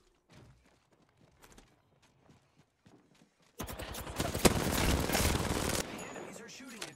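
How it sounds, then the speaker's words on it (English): Enemy gunfire in the Apex Legends Arenas shooter game: after a few seconds of faint scattered sounds, a loud, dense burst of automatic fire erupts and keeps going, then trails off toward the end. "The enemies are shooting at me."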